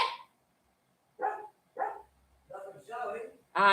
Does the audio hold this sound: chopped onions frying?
no